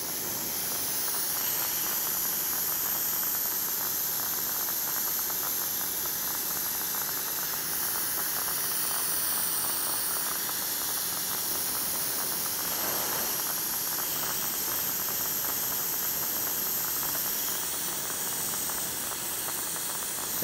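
An oxyhydrogen torch flame roars with a steady, loud broadband hiss as it melts e-waste for precious metal extraction, continuous and unbroken throughout with no talking.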